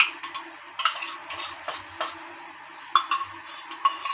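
Homemade yogurt being stirred into raw chicken for a chicken fry marinade, giving soft wet scraping and clinks of a spoon against the bowl in irregular close strokes, with no talking.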